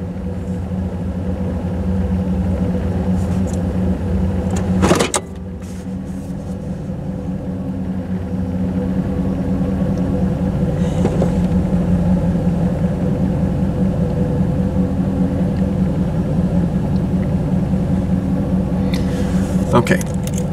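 A third-generation Chevrolet Camaro with a 305 TPI V8 idles steadily, giving a continuous low rumble with a faint rhythmic pulse. A brief sharp knock breaks in around the five-second mark.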